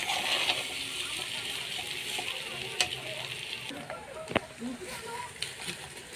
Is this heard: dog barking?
no